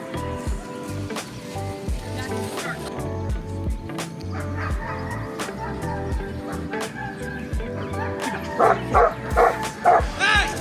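Dog barking at a PSA dog sport trial, a run of repeated barks and yips of varying loudness over a busy outdoor background, growing louder and denser toward the end.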